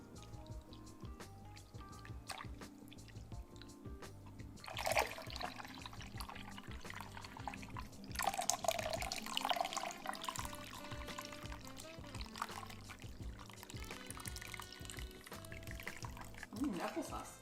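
Liquid for a Mexican drink poured into a warm blender, a faint steady trickle and splash rising in bursts, heard under continuous background talk and music.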